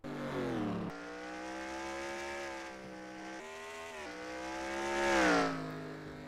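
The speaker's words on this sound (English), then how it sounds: "With only 3 cars on the racetrack." Race cars on a racetrack rev and whine through gear changes, with rising and falling engine tones and a louder pass near the end, alone with no talk.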